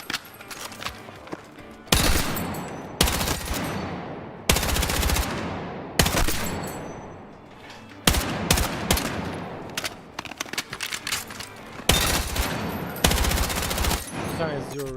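Rapid bursts of automatic gunfire from the video game Counter-Strike, played in a Starladder Major Budapest esports match, come in loud repeated volleys separated by short pauses, with faint footsteps and game noise between them.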